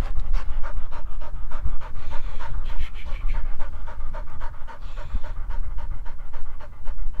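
A quail-hunting dog pants hard and fast in a steady rapid rhythm close by, loud and continuous with no talk over it.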